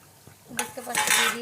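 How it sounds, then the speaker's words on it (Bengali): Vegetable chops being lowered into moderately hot oil in a home kitchen, with utensil clinks against the pan followed by a rising sizzle and hiss of frying, close and fairly loud. "তো একটা একটা করে আমি তেলে দিয়ে দেবো এবারে।"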